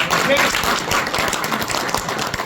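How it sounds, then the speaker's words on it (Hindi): A crowd at an election rally in Saharanpur claps continuously, a dense, loud patter of many hands that holds steady throughout with no pause. "अगर मैं सही कह रहा हूं तो ताली बजा के इस बात का स्वागत करो।"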